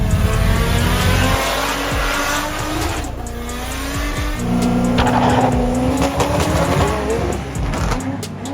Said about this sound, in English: The bang bang skids. The diesel drags and the burnouts.